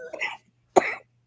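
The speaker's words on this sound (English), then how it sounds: "Their cough does not sound nearly as gross as mine" A person coughs twice, close and sharp, with a short pause between the bursts.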